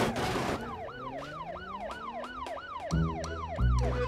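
The siren of an emergency vehicle in the BeamNG driving game wails in a fast, repeating up-and-down cycle over a low engine rumble, ending with a heavier thump.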